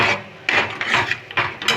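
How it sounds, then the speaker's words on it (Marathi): A spatula scrapes and rubs rhythmically against a pan while mixing pav bhaji with masala, a run of close, loud scraping strokes about every half second, with no speech. "प्रॉपर मिक्स करून घेऊया."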